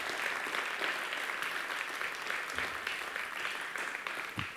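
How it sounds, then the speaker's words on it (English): Steady applause from an audience, a dense wash of clapping that holds at an even level throughout with no talking. "This is a quick round of applause for Jerry."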